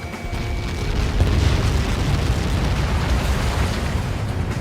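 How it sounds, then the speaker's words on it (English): Missile impact explosion in the video game Ace Combat 7: a loud, sustained, deep roaring blast that rumbles steadily without fading for several seconds. "How many got caught in that explosion?"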